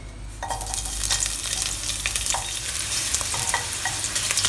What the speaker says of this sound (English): Pan fry it for approximately 10 to 15 seconds just to get the flavor out.